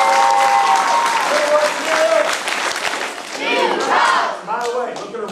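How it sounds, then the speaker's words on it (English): Applause from an audience at a 2009 martial arts belt ceremony at a family martial arts center, dense and steady clapping with some cheering, mixed with a few voices calling out near the end. "Give her a big round of applause."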